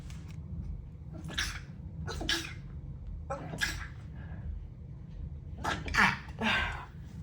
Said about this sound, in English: I was so glad that I hadn't been sneezing yet.